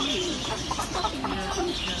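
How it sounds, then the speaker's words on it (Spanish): A chicken clucks and coos in short bursts at an outdoor flea market, with busy background noise around it. "Mira la gallina."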